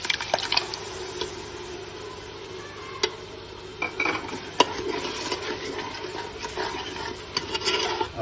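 Yogurt is stirred into a fish gravy masala frying in a pan, giving soft sizzling under wet squelching and scraping of a spoon, with occasional sharp taps against the pan, close by.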